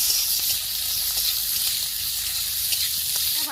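Chopped onion and torn green chilies frying in mustard oil for an ash gourd dish, giving a steady, close, hissing sizzle that stays even throughout.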